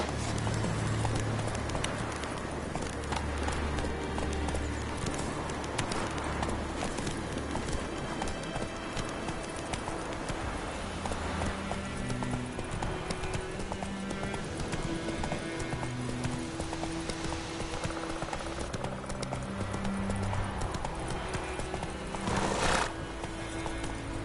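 Hoofbeats of the horse Roach galloping in a video game, rhythmic clip-clop at a steady pace with occasional whinnies and a broad rush of movement, continuous and fairly close.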